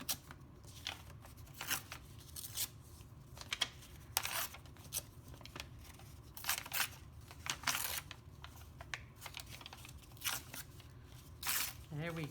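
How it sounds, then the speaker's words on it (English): Colored paper is torn into scraps by hand in repeated short ripping bursts, close and crisp, spaced a second or two apart with quieter handling and rustling in between. "I'm going to tear it into some scraps here"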